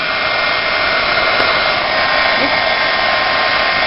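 A heat gun blows hot air to melt embossing powder for scrapbooking, giving a constant loud rushing roar with no pauses.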